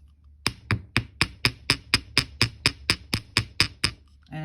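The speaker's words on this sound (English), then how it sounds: "we're just going to hammer the very edge of these loops here." Fifteen sharp metallic hammer taps on the edges of wire loops for a chain link, at a steady, fairly quick rhythm, close by and moderately loud, with no talking.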